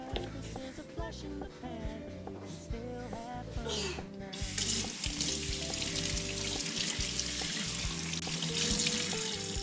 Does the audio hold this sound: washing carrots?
yes